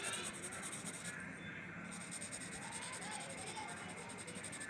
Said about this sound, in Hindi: इसको डार्क कर लेते हैं और फिर इसका नाम लिखते हैं